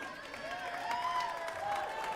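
Home crowd of young fans cheers and applauds at a National Squash League match, a steady wash of clapping and excited voices with a commentator talking over it throughout.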